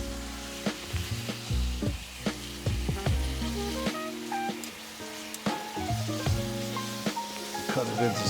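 Skirt steak seasoned with salt and pepper sizzles steadily in a hot pan, close and loud, with scattered clanks and taps of a utensil against the pan and brief speech in the background.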